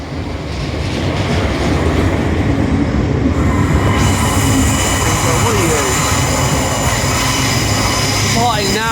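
A Class 700 electric train pulls into London Bridge station, its steady rumble and rolling wheel noise loud and continuous, with rising tonal whine and brake squeal near the end over busy platform ambience.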